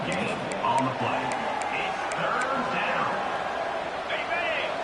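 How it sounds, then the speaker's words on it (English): A football stadium crowd at a Rutgers versus Penn State game rumbles in a steady, distant roar, heard faintly beneath a commentator talking throughout. "And here comes the noise. This crowd is trying to inspire this defense to make a big red zone stop."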